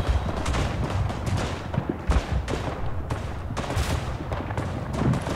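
Battlefield bombardment in the World War I game Verdun: repeated heavy booms and blasts of mortar and artillery fire, with scattered gunshots in a dense, rumbling mix of explosions near and far.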